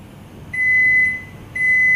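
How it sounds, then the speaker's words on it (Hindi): A BOC 606 Turbo built-in microwave oven sounds two long, steady electronic beeps at the end of a cooking function, loud and clear over a faint background hum with no talking. "आपका फंक्शन खत्म होने के बाद 5 बीप्स के साथ अवन बंद हो जाएगा।"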